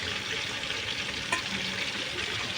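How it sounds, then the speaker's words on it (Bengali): Chicken rubbed with salt and turmeric frying in a pan, a dense continuous sizzle with faint stirring scrapes and one brief clack, close and without talk. "আমি মাংসটা ভেজে নিচ্ছি।"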